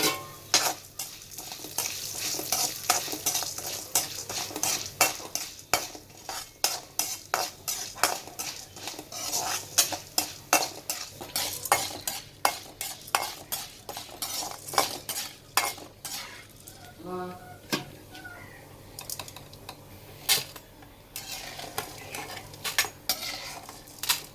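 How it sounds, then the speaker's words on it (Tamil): Urad dal and chana dal dry-roasting in a pan, a utensil scraping and clinking steadily against the metal in a busy, rattling rhythm with a soft sizzle beneath, close and fairly loud, no voices. "உளுந்தம்பருப்பு கடலைப்பருப்பு போட்டு வறுத்தெடுக்கணும் செவ்வக்க வறுக்கணும்"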